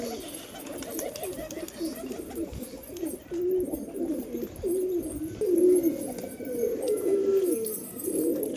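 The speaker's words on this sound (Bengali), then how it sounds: "আমাদের কবুতর" Pet pigeons coo together in a low, soft, rolling chorus, close by and steady, with overlapping throaty calls and no voices.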